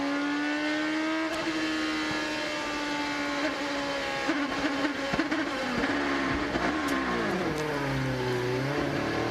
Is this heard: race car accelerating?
yes